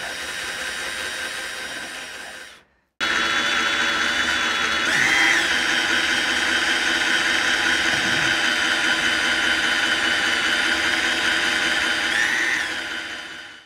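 A power drill whines continuously at high speed while drilling metal by hand, cutting out briefly near the start and then grinding steadily on for about ten seconds.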